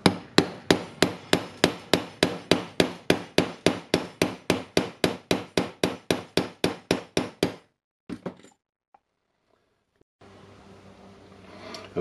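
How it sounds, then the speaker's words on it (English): Steady, rapid hammer blows on metal, driving a ring into place on an old Hitachi DH24PC3 hammer drill, about two dozen loud sharp strikes in a regular rhythm, then a few scattered clanks and quiet. "We need to get it down, so we'll try to hammer it more."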